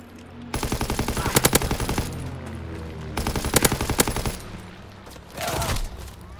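Flak guns blasting in a World War 2 video game: loud, rapid bursts of automatic fire in two long volleys, close and dense, followed by a heavier rumbling blast near the end.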